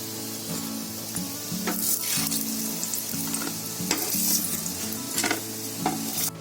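Raw banana koftas deep-frying in hot oil, a steady close sizzle with bubbling crackle and occasional scrapes of a utensil, under a low tonal hum throughout.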